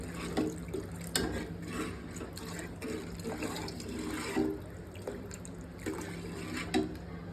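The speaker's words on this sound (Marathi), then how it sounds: "डाळीचं पाणी काढलेलं ह्याच्यात आपण ओतून घेऊ." Drained lentil cooking water pours into a cooking pot in a home kitchen, a quiet, continuous trickling splash with a few louder gurgles, heard alone without talk.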